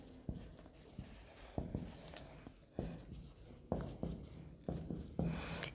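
Pen writing on paper while listing expenditures in cost accounting notes: close, soft scratchy strokes in short bursts with brief pauses, quiet and alone.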